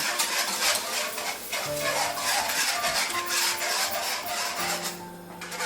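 Whisk scraping steadily through a thickening sauce in a pan for lamb, a continuous rasping, stirring rub close up with no talk.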